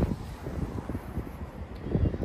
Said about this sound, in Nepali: तातो हावा चाहिँ गुरुङ गुरुङ गुरुङ गुरुङ चलिरहेको छ